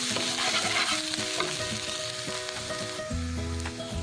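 Masala with green chilies and a little chili powder sizzling and frying in a pan for palak paneer, with steady loud crackle and repeated scraping stir strokes, close up and without voices.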